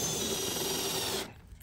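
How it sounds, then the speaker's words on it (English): Power drill driving a self-tapping screw into a Ford F-250/F-350 truck bed, a close steady whirring grind for about a second before cutting off abruptly. "So with these self-tapping guys, it should be as easy as just screwing them in."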